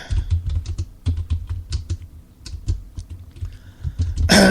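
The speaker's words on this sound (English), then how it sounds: "I'm typing away here" Computer keyboard keys clatter in quick, close bursts of typing, pausing briefly between runs before a louder rustle at the end.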